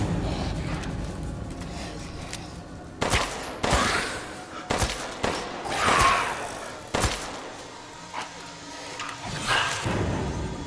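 Repeated gunshots from the Resident Evil Village video game ring out as loud, sharp bursts spaced irregularly over a steady rumbling background, with no talk.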